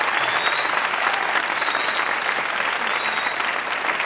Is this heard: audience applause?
yes